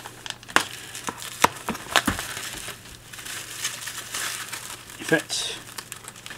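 Plastic wrapping around a pair of MacBook keyboards crinkles and crackles close by as it is unwrapped, sharp crumpling bursts breaking up the quieter rustling, with a person talking over it.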